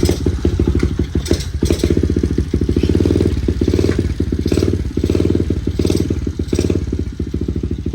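Honda XR70 motorcycle engine, cold after a heavy-duty clutch install, running steadily throughout, with a loud, close, rapid single-cylinder putter and occasional revs and clattery bursts.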